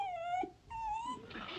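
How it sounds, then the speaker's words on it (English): A dog whimpers and whines in high, drawn-out tones, two long plaintive wails separated by a brief pause, fairly close and clear with no talking. "Sounds like Daisy Bell, the miller's dog."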